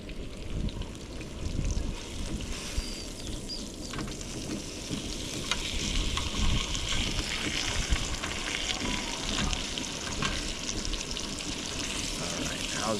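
A sirloin steak sizzles and fries steadily in a pan at a cabin cookout, a continuous crackling hiss running throughout with faint clinks and background noise.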